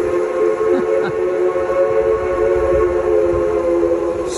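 A train whistle sounds in a long, steady, loud tone with several pitches together, over a rumbling train and faint background noise, in Colorado's San Juan Mountains.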